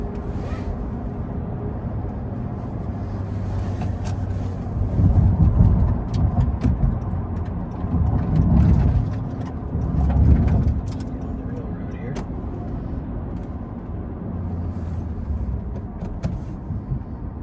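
A 2018 Honda Accord 2.0T with the K20 engine and a six-speed manual cruising at night, its low engine and road rumble swelling briefly a few times beneath someone talking throughout.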